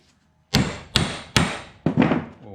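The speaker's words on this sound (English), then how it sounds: "We'll hammer that right through" Four heavy hammer blows drive an old railway dog spike into 80-year-old timber at a steady pace, each ringing sharply and decaying, close and loud.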